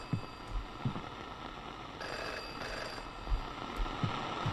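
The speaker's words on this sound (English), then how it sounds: "Where is the phone coming from?" A telephone rings in the indie horror video game FM against a dense, droning ambient background, with a few soft low thuds spaced throughout.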